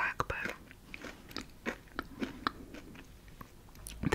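Lemon-flavored edible crystal candy eaten up close, with scattered crisp bites and crunches over several seconds amid soft chewing, all at a quiet level.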